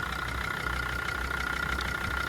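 A Jeep WJ with a 2.7 diesel engine taken from a Mercedes E-Class idles steadily after a cold start, a loud, close, even rumble with a constant mid-pitched whine and no talk.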